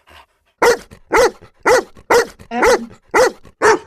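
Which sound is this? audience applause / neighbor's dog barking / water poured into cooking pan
neighbor's dog barking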